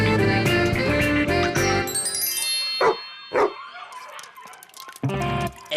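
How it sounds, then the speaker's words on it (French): Stray dogs give a couple of sharp, loud barks partway through, following a stretch of bright jingling, tinkling sound, with short gaps of near silence between. "on va finir par les attraper, ces chiens errants"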